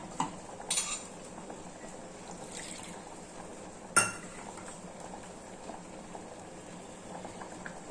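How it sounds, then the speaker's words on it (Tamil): Bean curry bubbles softly in a pot with a low, steady simmer, broken by a couple of sharp metallic clinks of a utensil against cookware. "மொச்சை குழம்பு நல்லா கொதிக்குது"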